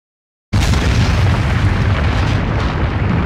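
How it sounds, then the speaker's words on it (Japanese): A huge magical explosion goes off near the town in Tensura Maoryu, a sudden loud boom that then roars as a sustained, dense rumble with no let-up. "今の爆発は町の近くで起きたように見えたけど"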